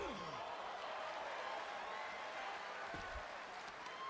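Distant video-game wrestling arena crowd chanting and applauding in a steady, diffuse wash, fairly faint and continuous.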